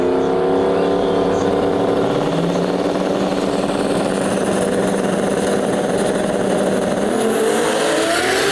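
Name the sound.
Datsun 280Z with 2JZ or RB26 engine drag racing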